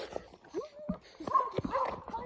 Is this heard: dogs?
yes